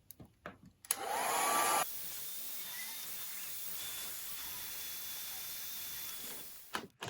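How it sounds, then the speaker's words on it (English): A hair dryer switches on with a sharp whoosh, then blows steadily with a loud airy hiss before clicking off near the end. "you can even speed things up with a hairdryer."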